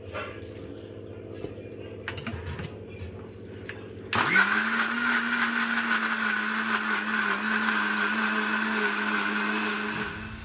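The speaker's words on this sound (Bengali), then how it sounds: "আদা রসুনগুলোকে পেস্ট করে নেবো মিক্সচারে দিয়ে" A kitchen mixer grinder switches on after a quieter stretch of room noise and then whirs loudly and steadily, grinding ginger and garlic into paste, its motor pitch holding nearly constant before easing slightly at the end.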